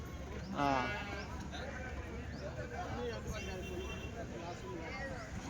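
A sheep bleats once, near and clear, at the Tuesday sheep market in Kadiri, then the scene settles into steady outdoor noise and low voices.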